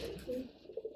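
A hen pigeon coos in a cage. The short, throaty coos come in a few soft pulses at close range, and no voices are heard.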